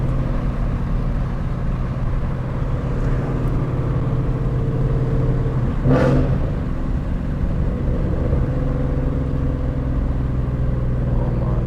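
A Ford Mustang GT driven on a winding road at sunset, its engine droning and rumbling steadily from inside the car, with a brief sharp rise in revs around a downshift midway.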